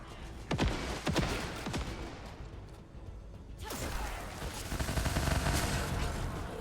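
Gunfire in the shooter The First Descendant: rapid cracks and bursts of shots, with sharp transients early on, then a denser stretch of sustained firing and impact noise.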